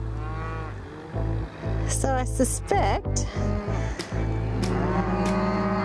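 Cattle moo several times in a long, loud drawn-out series near a farm, with a tractor engine droning steadily underneath and someone speaking briefly in between.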